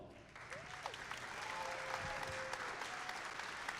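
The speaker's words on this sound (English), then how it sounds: "please give a huge round of applause for some of our lead event volunteers" Broad, steady applause from a crowd at a district event opening ceremony, honoring lead volunteers, heard faint and distant as a continuous wash with a few brief tonal whistles or squeaks over it.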